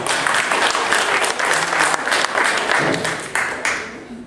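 A room full of people at a village board organizational meeting applauds steadily and fairly loudly for about four seconds, a dense patter of many hands that dips briefly and then tails off at the end.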